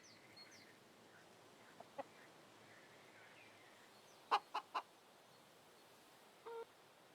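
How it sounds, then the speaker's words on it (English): Video game chickens clucking: a few short, faint squawks in a quick cluster mid-way, with a couple of isolated clucks around them over a quiet, hissy background. "They just walk around, squawk about, and peck at the floor."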